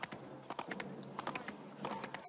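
Horse hooves clip-clop in a quick, uneven walking rhythm in Assassin's Creed 3, light and close against a quiet background.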